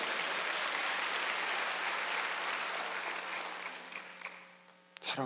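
A church congregation claps during a Wednesday worship service. The loud, continuous clapping fades over the last seconds and gives way to quieter sounds and a faint voice.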